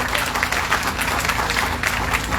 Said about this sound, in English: I was going to ask you to give him a round of applause.